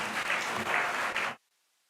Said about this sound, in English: Please give a big round of applause to our judge.